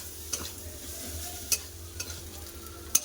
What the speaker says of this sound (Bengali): সামান্য একটু গুঁড়া লঙ্কা মিঠা একটু ঝাল ঝাল লাগবে এবার নেড়ে চেড়ে নেড়ে নেবো